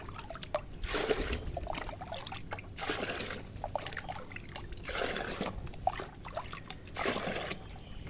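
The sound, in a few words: filling a bucket with plain water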